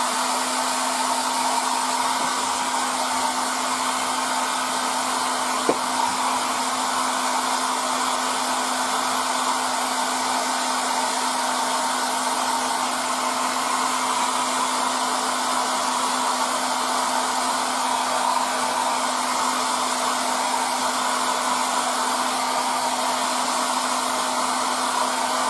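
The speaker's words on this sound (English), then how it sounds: "here's the dryer." A hair dryer runs steadily and loudly throughout, a constant whooshing drone with a fixed motor hum, used on a 1:72 scale model during rust chipping and painting work; one faint click sounds partway through.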